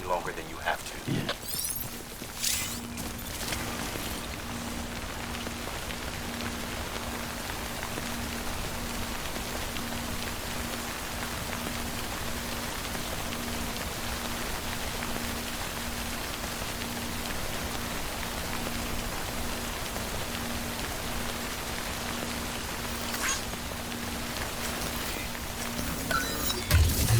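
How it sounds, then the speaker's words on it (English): Steady timefall rain in the video game Death Stranding, a continuous even hiss of falling drops that holds at a constant level throughout, with a brief clatter near the start. "Don't stay out in the rain any longer than you have to."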